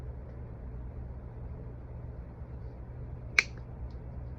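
Small diagonal cutters snip through a piece of metal mesh: a single sharp, crisp click standing alone over a low steady background hum.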